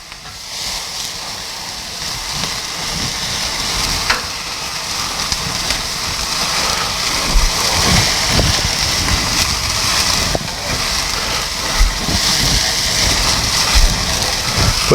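Burger patties sizzle on a hot outdoor grill griddle, a steady broadband hiss with occasional soft pops and light clinks, continuous at moderate loudness with no talk.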